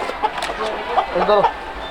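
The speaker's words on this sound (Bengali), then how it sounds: "দেখ কত বড় মুরগি" A chicken clucks several times in short, uneven bursts, close and fairly loud, with some background noise around it.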